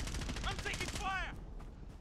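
Gunfire in Call of Duty Warzone, quick rapid shots packed close together, loud and then easing off, with a voice speaking over the shots.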